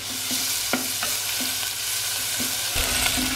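Garlic, ginger and onion frying in a spoonful of ghee for samosa filling, a steady close sizzle with occasional stirring scrapes of a spoon in the pan, no talking.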